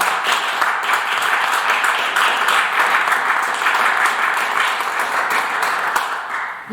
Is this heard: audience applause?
yes